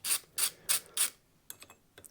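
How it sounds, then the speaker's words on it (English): Screws being undone from the tremolo base plate of a Fender Stratocaster, heard as four close, evenly spaced ratcheting squeaks followed by a few fainter clicks, with no talking. "Just undo these 3 screws"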